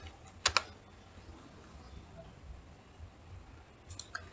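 A few quick keystrokes on a computer keyboard while entering an ipconfig DNS command: a tight double click near the start, then a faint pair of taps near the end, with quiet room hiss between.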